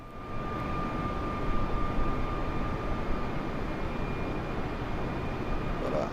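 Simulated fixed-wing airplane in level cruise over Michigan in Microsoft Flight Simulator, a steady, loud engine drone with a constant whine running through it, unchanging and with no voices.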